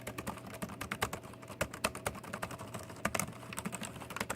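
Fingers type on the keyboard of a Macintosh PowerBook 170 laptop, producing a rapid, uneven run of close, crisp key clicks and clacks that continues throughout at moderate volume.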